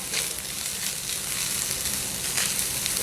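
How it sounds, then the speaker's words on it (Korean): Onions stir-frying in a pan as the base for an Italian risotto, giving a steady, close sizzle with soft crackle and occasional brighter hiss, no talking. "양파 같이 볶습니다."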